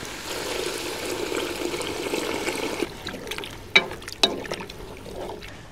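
Tap water running and splashing as it fills a soup pot in a home kitchen, a steady broadband pour that gives way after a few seconds to quieter trickling and a couple of sharp clanks.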